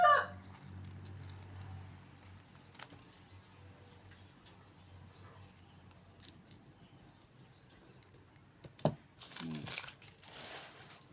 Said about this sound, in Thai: ตัดตามแบบที่เราเขียนนะคะ